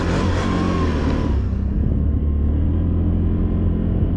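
An 850 XMR off-road vehicle at Lake Murray, freshly back from an oil seal change, its engine revving loud and close, then dropping to a deep steady rumble.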